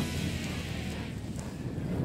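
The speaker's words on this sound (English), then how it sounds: "a little bit windy out here today" Steady gusty wind buffets the microphone outdoors in a field on Delmarva, with a low rumbling roar throughout, no voices.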